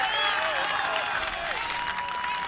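A Legion baseball championship crowd at Post 59 applauds and cheers a stand-up triple, a steady, loud wash of clapping with mixed voices that holds for the whole stretch.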